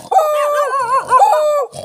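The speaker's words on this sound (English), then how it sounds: "Stop barking, right." A dog barks and yowls loudly near an electric pole outside a house in a rural Philippine province, one drawn-out, wavering howl-like bark heard up close without talk.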